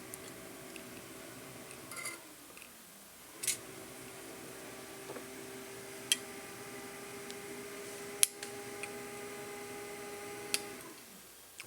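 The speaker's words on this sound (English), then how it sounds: "That sound you're hearing is my house water pump running" A house water boost pump running steadily as a low, constant hum with tonal lines, heard alongside occasional sharp ticks and clicks from nearby handling of small parts, fairly quiet and with no talking.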